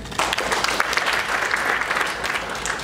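Audience applause at a Tanzanian ceremony honouring a world champion runner, a dense, steady clapping from a crowd lasting about three seconds, loud and continuous with no talk over it.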